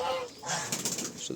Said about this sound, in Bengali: ডাকে কবুতরের মতো